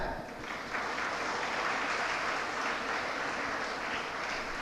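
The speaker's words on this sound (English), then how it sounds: "My dear students, give a big clap." A crowd of students at an International Women's Day event applauds in a dense, steady round of clapping that lasts several seconds, with faint voices beneath.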